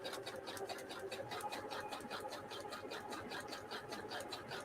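A sewing machine stitches fabric scraps into a roll with a fast, steady mechanical chatter, heard close and continuous throughout, with no talking over it.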